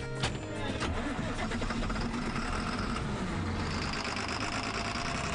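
A John Deere tractor runs on an elk pasture in the morning, its engine a close, continuous, knocking rumble that rises briefly near the start and then settles into steady running.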